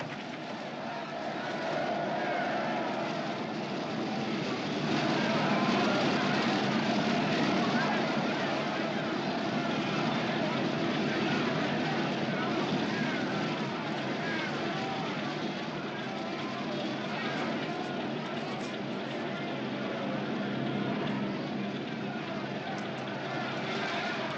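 A propeller airplane engine drones steadily at moderate distance, a continuous broadband hum with a slight swell in the middle, with no break for the whole stretch.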